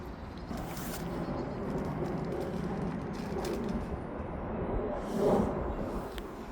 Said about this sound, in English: The birds will be out singing today